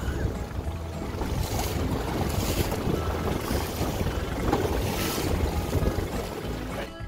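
A small boat tender bounces through choppy water, with steady wind buffeting the microphone and waves slapping the hull throughout.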